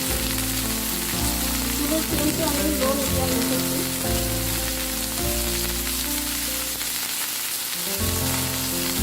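Chicken shish kebab fries in a pan with a loud, dense sizzle that crackles and spits continuously from start to finish, steady and close, with no talking over it.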